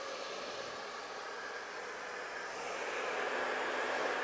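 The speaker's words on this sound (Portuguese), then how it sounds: "E aí agora você vai vir com o seu secador por cima" A handheld hair dryer blows steadily over freshly cut hair during a barbershop haircut, a close, continuous airy roar that swells slightly louder toward the end.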